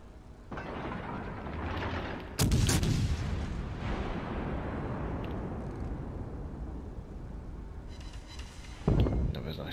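Naval guns fire in World of Warships Legends, with two heavy booming salvos, the first followed by a long rumbling decay and the second near the end, over continuous game noise.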